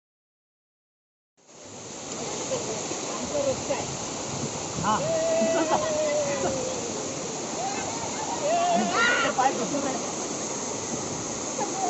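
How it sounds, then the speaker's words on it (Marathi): A powerful waterfall roars steadily as broadband rushing water, loud and continuous from start to end, with people talking over it. "इथं अजून एकदम भारीवाला धबधबा आहे"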